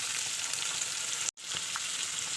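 Onion, chicken pieces, tomato and green chilli frying in a pan for Bengali koraisuti (green pea) chicken, a steady loud sizzle throughout with a momentary break near the middle, close up.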